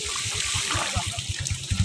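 Strong flow of running water, a loud, close, continuous rushing gush with a low churning pulse beneath it, and no talking over the brief stretch.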